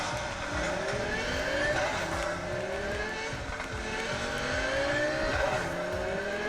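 Car driving in the video game Cyberpunk, with a steady loud engine drone that rises and falls in pitch as it accelerates and shifts, plus brief tire squeals, with no talking.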